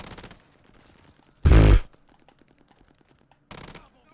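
A KGM-40 assault rifle fires in Call of Duty Vanguard in three loud, short bursts: a brief one at the start, a heavy half-second volley in the middle and a short one near the end, with quiet game ambience between them.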